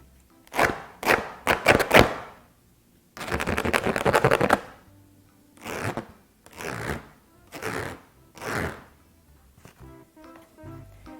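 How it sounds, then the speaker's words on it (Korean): Sheets of paper are handled to make sounds: bursts of crisp rustling and rubbing, first in quick strokes, then a longer continuous scrub, followed by several separate swishes with pauses between them; no talking. "이 종이를 이용해서 또 새로운 소리를 한번 내보겠습니다"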